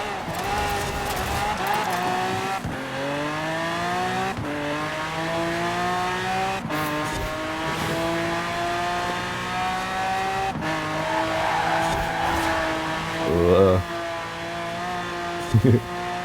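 A Bugatti Veyron race car in Forza Horizon 4, driving at high speed on dirt through Britain, its engine roaring loud and continuous with rising gear sweeps, sharp shift breaks and brief tire scrabble near the end.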